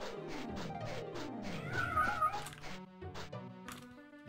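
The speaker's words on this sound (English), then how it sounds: "It's a very loud cat." Loud, drawn-out cat meows and caterwauling from the 1996 game The Elder Scrolls: Daggerfall, several wavering cries repeating back to back and sounding close, with no talk over them.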